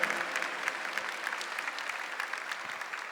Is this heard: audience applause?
yes